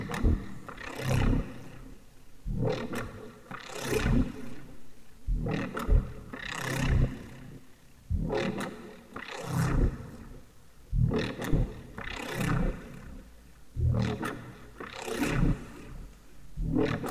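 Soloed neuro bass synth with EQ automation, delay, reverb and chorus, growling out in loud, evenly repeated snarling bursts roughly every second and a half, each sweeping in tone.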